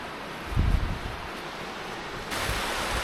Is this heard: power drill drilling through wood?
no